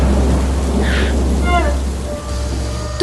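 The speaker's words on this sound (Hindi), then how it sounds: "तूफानी रात का अंधेरा शहर को अपनी चपेट में ले रहा है, बिजली की कड़क के बीच।" Thunderstorm over a dark city at night, with steady heavy rain hissing throughout and a deep rumble of thunder beneath, fairly loud and continuous; brief tonal chirps and whistles sit faintly over the rain.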